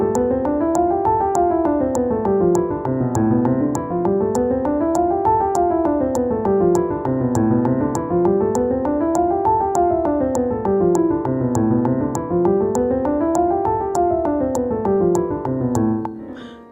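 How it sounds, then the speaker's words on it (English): Piano scale running up and down repeatedly in fast even eighth notes, smooth and continuous, with a metronome clicking steadily at 200 beats per minute on top. "I put the metronome at 200 beats per minute on 2/4, and I play the notes as if they were eighth notes"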